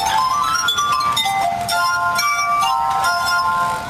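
A glass harp of tuned drinking glasses filled with water plays a clear melody of ringing, sustained notes, one after another, loud and close with no talking.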